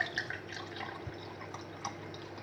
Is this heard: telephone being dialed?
no